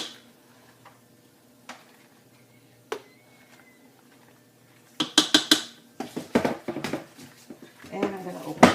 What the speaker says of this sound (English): I'm going to scrape my blender to get all of that right back in there.